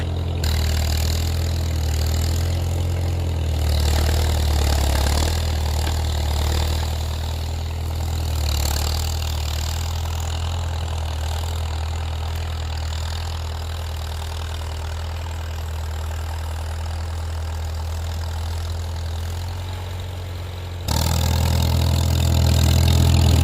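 An antique farm tractor engine idles steadily at close range, a low, even chugging rumble that steps up in loudness near the end, with no talking over it.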